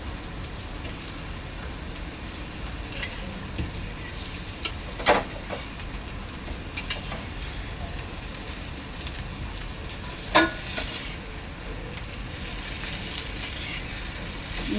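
Onion vadi frying in hot oil, a steady soft sizzle and crackle throughout with a couple of brief louder pops, no talk.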